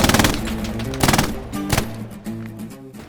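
MG42 machine gun in a World War II combat game firing rapid bursts at close range, loud chattering volleys broken by short pauses, with no talk over it.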